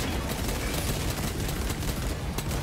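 Video game gunfire crackles as a steady, dense barrage of rapid shots right up close, running unbroken for the whole stretch with no pauses.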